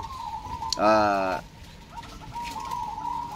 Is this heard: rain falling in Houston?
no